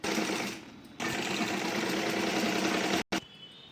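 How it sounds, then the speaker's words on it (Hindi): A sewing machine stitches a blouse in close, loud, steady runs, with a brief pause near the start and a sharp stop just after three seconds before it starts up again. "देखिए ये मैं इसे छोड़ दूंगी सिलाई के लिए, और यहाँ से सिलाई लगाऊंगी।"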